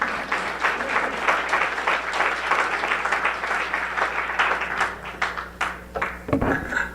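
Audience applause fills a hall at an animal protection leaders event, a dense, steady wash of many hands clapping that holds loud throughout before thinning near the end.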